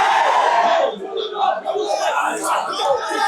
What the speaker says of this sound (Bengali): তারা কিন্তু স্লোগানে এখানে মুখরিত করে রেখেছেন এই জগন্নাথ ইউনিভার্সিটির প্রান্তর